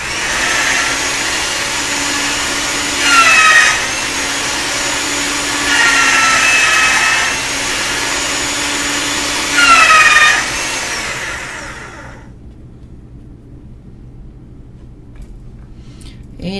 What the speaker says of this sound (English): It's easier to mix a color if you kind of do it half by hand and half by machine.